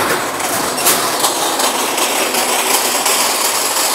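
A gearbox-driven strut channel roll forming machine with 26 rolling stations and up to 4 mm capacity runs with a steady, dense mechanical rumble and grinding hiss, continuous and close, with faint periodic clanks.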